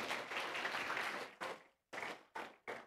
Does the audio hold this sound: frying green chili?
no